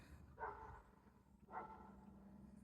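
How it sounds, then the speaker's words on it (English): A neighbor's dog barks twice, faint and distant, with a quiet outdoor background around it. "Oh, that's the neighbor's dog barking."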